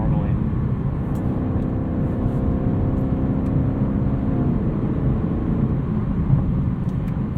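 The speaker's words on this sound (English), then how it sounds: "It's a little bit ahead of the actual engine note when it revs up and upshifts and downshifts." A 2018 Lexus LC 500 engine hums and revs from inside the cabin, a steady low drone with rising and falling pitch as it shifts, loud and close throughout.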